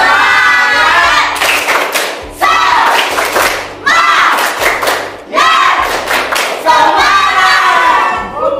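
A class of children in a school lesson performs a rhythmic clapping chant, loud bursts of claps and thumps with shouted voices repeating in several waves, close and energetic.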